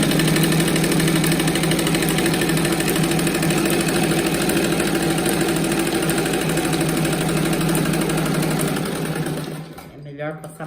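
Sewing machine stitching a straight seam on a patchwork rug, running in a steady rapid whirring rattle for about nine seconds close up, then stopping abruptly.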